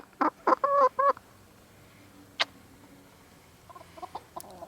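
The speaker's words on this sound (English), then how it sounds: "So the two of us are holding cute chickens." A black hen gives a quick burst of loud clucks up close, then falls quiet, followed by a single squawk and a few softer, scattered clucks at the end.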